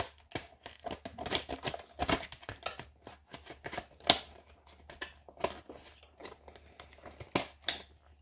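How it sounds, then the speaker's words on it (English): Stiff plastic packaging around a boxed Greenlight toy car being pried open, giving a run of close, sharp crinkles, cracks and snaps at an irregular pace with no talking. "this is really tight to open. The box inside is like pressed right against the plastic on the outside"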